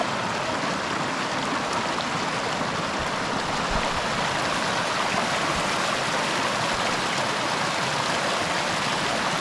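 A seasonal mountain creek flows steadily over rocks in a continuous, even rush of water that stays close and fairly loud throughout, with no voices.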